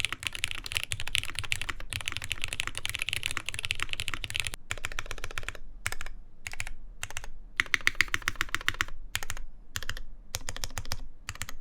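Steady, fast typing on a Type 65 Plus mechanical keyboard, crisp clacky keystrokes up close, with a few brief pauses and short bursts toward the end.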